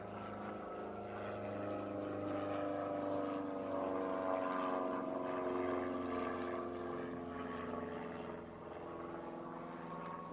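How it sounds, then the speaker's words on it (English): Airplane passing overhead near a Maryland military base, a steady low droning engine rumble that holds for about ten seconds and fades slightly near the end, distant but filling the background with no voices. "I'm just going to let this airplane fly overhead here."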